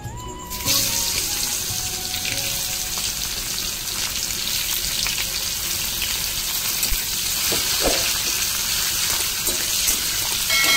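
After a brief quiet start, chopped onion hits hot oil and a loud, continuous sizzle takes over, with a couple of stirring scrapes along the way.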